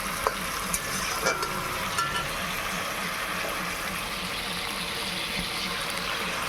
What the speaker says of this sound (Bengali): এখন ঢাকনাটা খুলে নিয়ে খুব ভালো করে নেড়ে চেড়ে নেব।